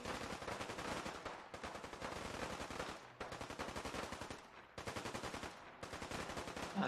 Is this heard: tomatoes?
no